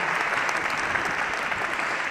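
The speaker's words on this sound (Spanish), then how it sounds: "Os pido un aplauso para él" An audience applauds a guest, a magician, during a talk held in the Church of San Antón: continuous crowded clapping at an even level throughout, with no voices over it.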